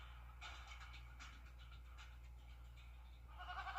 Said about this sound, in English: What's with all the goats?